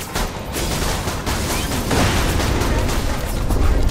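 Rapid pistol fire in the shooter game Borderlands 2, a dense, loud run of overlapping shots and blasts with no talk over it.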